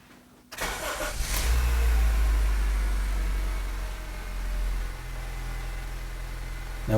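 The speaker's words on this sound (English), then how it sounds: "Let's go ahead and start the engine." A car engine cranks and fires after a brief quiet moment, then settles into a steady, close idle that hums on without a break.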